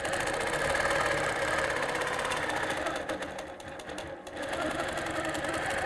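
Sewing machine stitching quilted circles, a loud continuous rapid whirring and clatter close up, slowing briefly partway through before running steadily again.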